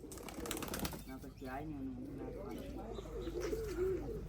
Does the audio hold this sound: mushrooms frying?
no